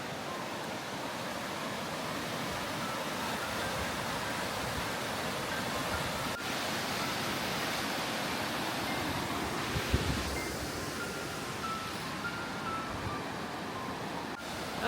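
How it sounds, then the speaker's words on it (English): Gullfoss waterfall in Iceland roars as a broad, steady rush of falling water, loud and unbroken throughout, with a brief thump partway. "it's an iconic waterfall in Iceland"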